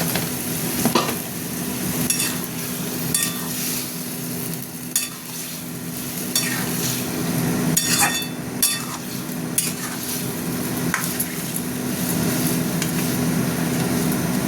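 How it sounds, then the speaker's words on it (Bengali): Spice paste for a vegetarian pointed gourd curry being fried with a little water and salt in a pan, a steady close sizzle with repeated scraping stirs and occasional utensil clinks throughout. "মশলাটা কষা হতে থাক।"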